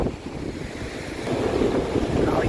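Ocean surf rolls onto Ruby Beach in Washington as a continuous loud wash of waves mixed with gusting wind buffeting the microphone, swelling slightly toward the end.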